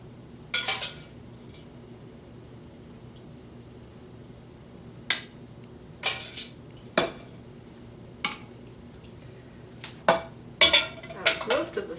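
A baking dish of gluten-free red enchiladas going into an oven preheated to 350 degrees: scattered clinks and clatters of the dish, rack and oven door, sharp and close, separated by quiet stretches with no speech.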